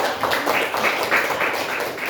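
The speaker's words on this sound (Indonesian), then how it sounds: "Berikan lagi tepuk tangan." Steady applause from a seated group greets a presenting team in a classroom or hall, a moderate, even patter of many hands clapping that continues without a break.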